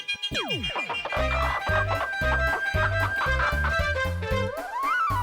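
A man imitates a rooster, crowing and clucking in a loud, close voice over playful background music with cartoonish sound effects.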